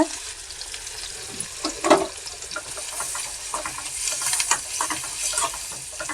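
Onions, green chilies, ginger and curry leaves fry in oil and butter with a steady close crackle, a few sharper spatters and scraping stirs breaking through, no voices.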